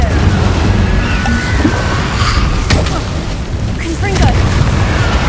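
Fire spell bursts in Hogwarts Legacy gameplay, crackling whooshes and booms layered over continuous loud action noise and music, with short bright streaks from repeated casts.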